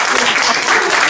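Steady applause from a group fills the whole short stretch, dense and close, with no clear gaps between claps.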